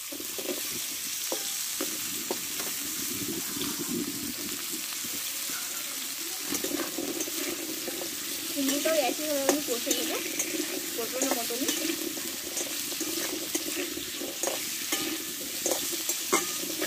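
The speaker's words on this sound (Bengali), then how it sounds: "এবার এই তেলে আমি কুমড়োটাকে কষে নেব।" Pumpkin pieces fry in hot oil in a Bengali home kitchen, a steady close sizzle broken by frequent scraping stirs of the spatula, louder bursts of stirring in the middle, with no talk.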